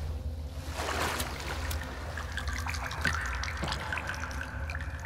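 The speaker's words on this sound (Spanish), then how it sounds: "me metí al agua." Water sloshing and splashing around a character wading through it in the video game The Forest, a continuous close swirl with small drips and gurgles, no talking.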